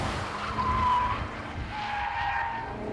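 Porsche Cayenne Turbo with Tiptronic gearbox in sport setting on a racetrack, tires squealing in two drawn-out skids over a steady engine drone, heard from some distance with no talk.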